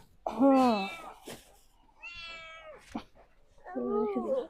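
A cat meows three times, drawn-out and close, with short pauses between calls.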